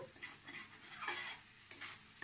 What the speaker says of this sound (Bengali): টমেটো অ্যাড করার পর মশলাটা আরও কিছুক্ষণের জন্য কষিয়ে নিতে হবে যাতে করে টমেটোর কাঁচা ভাবটা চলে যায়